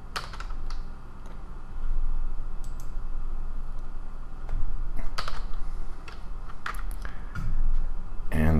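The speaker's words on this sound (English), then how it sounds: "So I'll type in barcode." Someone types on a computer keyboard with quick, irregular clicking keystrokes in bursts, close and fairly clear, while a voice talks intermittently.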